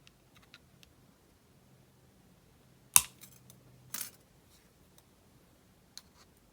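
Jewelry wire being snipped with cutters for a woven pendant: one sharp click, then a second fainter snip about a second later, with a few tiny ticks in a quiet room.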